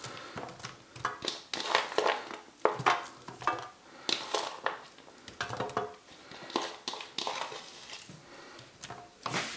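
Chopped onion tumbles onto raw, seasoned chicken wings in a baking dish, in a run of uneven clattering, pattering bursts and soft thuds, close and fairly loud.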